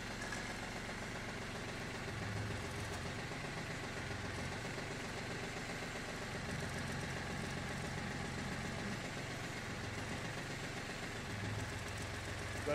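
A Yanmar F-220 mini tractor idles with its hydraulic pump running, a steady mid-low engine drone with faint vibration, constant and unbroken throughout.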